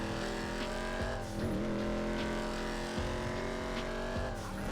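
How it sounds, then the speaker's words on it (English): Imponte Phoenix muscle car from GTA Online, its exhaust note a steady, loud, throaty drone that rises and dips in pitch as the engine revs, close up with no talking. "Now, I absolutely love the exhaust note on the Phoenix."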